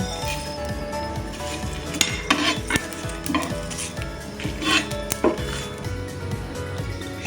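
Cumin and coriander, with dried chillies and bay leaves, fry in a pan, a close sizzle under repeated metallic spatula clinks and scrapes against the pan, with no talking.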